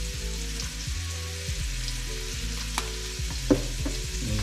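Oil hits a hot pan while making chicken fried rice, giving a loud, steady, close sizzle with a few small clicks and knocks, and no talking.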